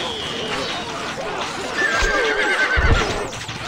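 Horse neighing with hoofbeats in the Stronghold Crusader strategy game, a whinny and galloping thuds layered over continuous game music and effects, loud and close.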